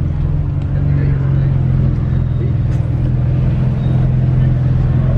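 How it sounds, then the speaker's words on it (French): A Ferrari 612 Scaglietti four-seat grand tourer with a manual gearbox and a V12 engine, driven through a town square, gives a steady, loud, deep engine drone with even low harmonics throughout, and it seems to carry faint voices. "Puis on entend le V12 toujours."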